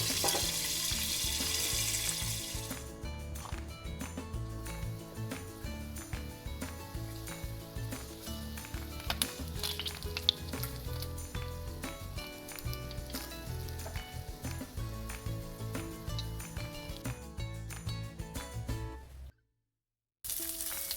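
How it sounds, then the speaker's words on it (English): Chicken skin fries in oil in a frying pan with a loud, continuous sizzle and crackle, occasionally stirred, briefly cutting out near the end. "Next, we're going to fry the chicken skin."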